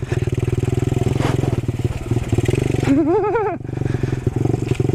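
A Honda Trail 90 motorcycle chugs along off-road with a loud, close, steady low engine pulse and rattling clatter, and a brief rising vocal or whine partway through before the thumping engine carries on.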